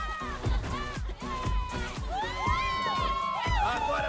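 An animated musical crowd of princesses shouts and cheers, with excited voices rising over a lively song and bright melodic singing throughout.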